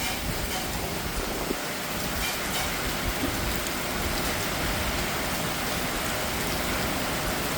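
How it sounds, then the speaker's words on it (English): Heavy rain pours down through a forest during tropical cyclone Fina near Darwin, Australia, a dense, constant hiss that fills every moment, with gusty wind mixed into the steady downpour. "It's still a lot of rain,"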